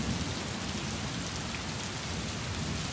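Heavy rain pours steadily in Bengaluru, an even, dense hiss of falling water with no talk.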